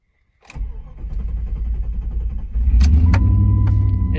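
A 1999–2004 Jeep Grand Cherokee engine cranks briefly and catches, then settles into a loud, steady idle close by, with no talking.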